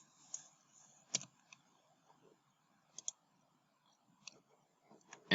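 Sparse, crisp computer mouse clicks spaced irregularly through a quiet room, one sharper click standing out, with faint low background hum between.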